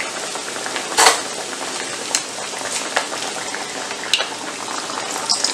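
Cooked rice pressed into a pan as a pizza base, frying with a steady close sizzle and crackle, broken by a few sharp spatula scrapes and clicks; no one speaks.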